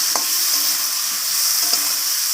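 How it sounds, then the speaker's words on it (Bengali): Potatoes with spices and ginger paste sizzling in a pan, a steady frying hiss throughout with a couple of faint stirring scrapes, for a vegetarian cabbage curry. "তো সব কিছু মশলা আলুর সাথে এইভাবে কষিয়ে নেব"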